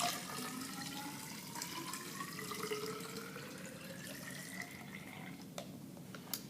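Spilled water poured into a measuring beaker, a steady quiet trickle with a faint rising tone as the beaker fills, ending in a few small drips and clinks.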